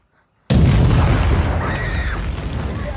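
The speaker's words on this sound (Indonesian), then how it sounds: "motor meledak" A Honda CB motorcycle explodes with a sudden loud blast after a brief silence, followed by a sustained roaring rumble and crackle that slowly fades.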